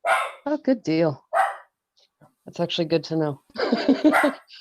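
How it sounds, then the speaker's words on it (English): A puppy barks in short, high yips in the background while someone talks over them on a live online call. "excuse the puppy dog that's barking"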